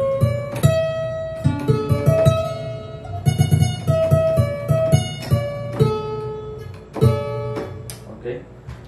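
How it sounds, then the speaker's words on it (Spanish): Requinto guitar from a mariachi sample library, played in a Cubase arrangement: bright plucked notes in a quick melodic run with strummed chords below, a close clear instrument track with no voices. "Este es un requinto, prácticamente una guitarra."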